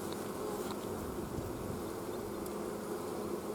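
A dense, steady hum of many honeybees buzzing together inside a hive, close and continuous, with no voices.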